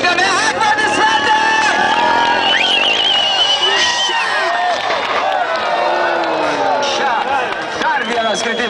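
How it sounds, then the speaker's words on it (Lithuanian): Crowd at a mini dirt bike stunt show in Kaunas cheering, whooping and clapping in a sustained burst, loud and close, with an announcer talking over it. "Ir pasitinkame aplodismentai!"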